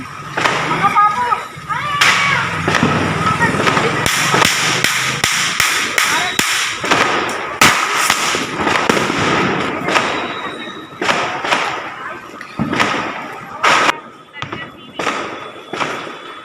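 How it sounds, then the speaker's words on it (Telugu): Chitpat firecrackers burst during Diwali celebrations, a long run of sharp, loud cracks and pops, sometimes in rapid clusters and sometimes spaced apart, with voices heard among the bangs. "చిట్పట్ బాంబు అయితే వేశాడు చాలా బాగా పేలుతుంది"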